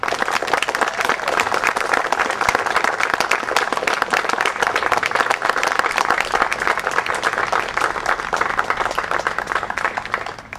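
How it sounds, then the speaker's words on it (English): Large outdoor crowd at a Memorial Day ceremony in Magnolia, Mississippi, giving sustained, dense applause that stays loud and even throughout. "give a hearty round of applause to the father of Casey Wells, Josh Wells"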